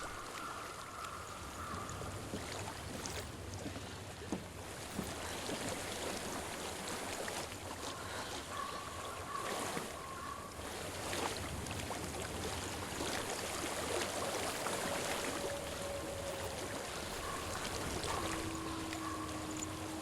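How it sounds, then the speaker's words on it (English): Steady flowing stream water in the game Hellblade: Senua's Sacrifice, a continuous broadband rush with faint tonal ambience and occasional soft splashes, no talk. "I hear water."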